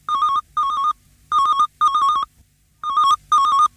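A telephone rings for an incoming call on a radio show, sounding as paired electronic trills separated by short silences, three double rings in a row, clear and close with no voices.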